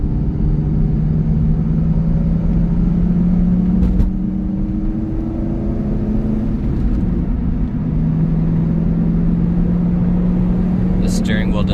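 Inside a 2000 Chevrolet Corvette on a test drive, the engine drones as a loud, steady low hum that shifts pitch as speed changes, with road rumble beneath and someone talking briefly over it.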